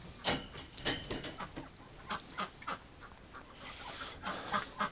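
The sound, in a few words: ducks quacking in winter pen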